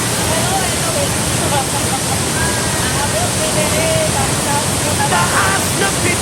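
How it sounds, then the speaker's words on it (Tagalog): A waterfall at Lake Sebu, South Cotabato roars steadily and loudly, a constant rushing wash of water with faint voices barely audible underneath. "Taas ng pitong talon"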